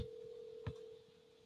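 A telephone tone sounds while a podcast host places a call to a guest, a faint steady single-pitch tone holding through the moment with a soft click partway and no talk.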